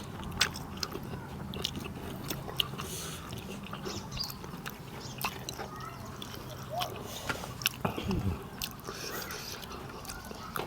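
Crunchy chewing of a spicy pounded nipa palm fruit salad, with close, repeated bites and crunches sounding faintly throughout under quiet background noise.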